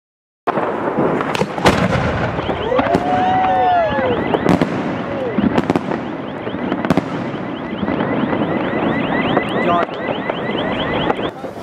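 A 6-inch cylinder shell and Polish firecrackers go off at a New Year's fireworks session: sharp loud bangs, crackling bursts and whistling streaks over steady wind noise, close to the microphone, with people talking and shouting throughout.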